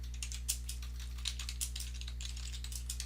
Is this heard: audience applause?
no